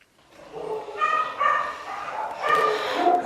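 A happy dog named Sammy yips and barks at her owner during pickup from a kennel, several excited high-pitched barks and whines close by.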